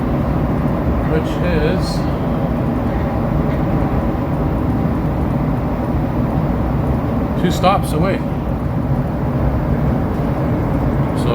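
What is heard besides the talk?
Montreal metro train riding on the Green Line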